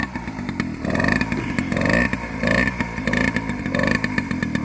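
Peugeot 103 Gazelle moped engine idling and running close by, a steady, buzzy two-stroke putter with rapid pulsing and slight revving swells throughout.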